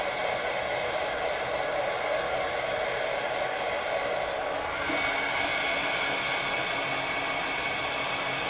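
A loud, constant airy roar of a heat gun drying gold paint on a wooden pumpkin blows steadily without pause, close and unbroken for the whole stretch.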